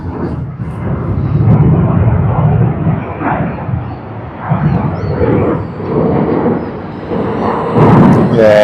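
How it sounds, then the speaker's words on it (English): A large airliner landing at Sydney Airport gives a loud, sustained engine roar that swells and rumbles on touchdown and rollout, close by and with no talk over it. "nice smoking landing"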